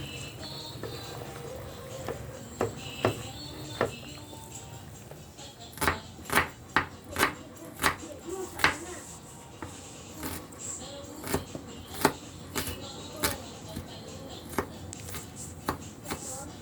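A knife chops through chicken for chicken pastil in a home kitchen, striking the board in sharp, irregular knocks that grow frequent midway, with soft talk and kitchen noise underneath.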